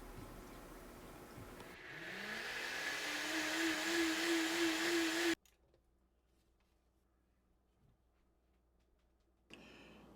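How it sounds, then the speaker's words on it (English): A blender starts up and whirs vegetables with chipotles in adobo into a smooth purée, its motor pitch climbing for a few seconds before cutting off abruptly, leaving near silence. "blend it up about 25 or 30 seconds until it's pretty smooth"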